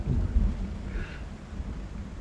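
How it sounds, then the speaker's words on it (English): Rain and a thunderstorm in the video game Project Zomboid give a low rumble of thunder with a soft, steady wash of rain, moderately quiet and heard alone. "I feel like the rain, the thunderstorm, is really well captured like this"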